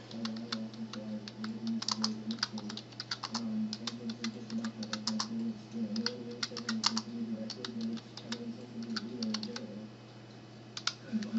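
Computer keyboard typing in quick irregular bursts of key clicks over a steady low hum, with a faint voice at moments.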